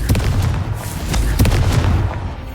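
A Confringo spell blast in Hogwarts Legacy, heavy booming impacts and rumbling fire bursts, close and loud, repeating in several thuds over a couple of seconds with no talking.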